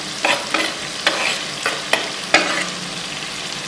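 Chopped garlic and chillies fry in oil in a karahi for Peshawari charsi chicken, a loud steady sizzle broken by sharp bursts and scrapes from stirring at irregular intervals.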